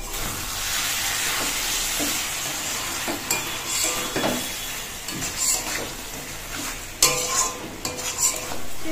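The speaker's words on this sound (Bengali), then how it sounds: "এটা একসাথে দিয়ে চিংড়ি মাছ দিয়ে নাড়াচাড়া করে দেবো" Prawns are stirred in a hot pan during home cooking, with close, continuous sizzling and hissing broken by scraping stirs and occasional clinks of utensil against the pan.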